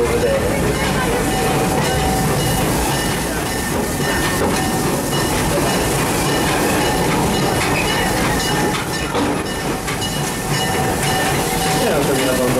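The Serengeti Express ride train at Busch Gardens Tampa runs at a steady pace, with loud continuous rumbling and clattering wheels. A narrator talks over it throughout.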